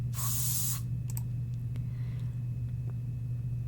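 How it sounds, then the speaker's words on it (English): A short burst of aerosol spray paint as a figure tags a flyer-covered street lamp in a park in a video game, a loud hiss lasting under a second over a steady low ambient hum, followed by a few faint clicks. "He's spray painting"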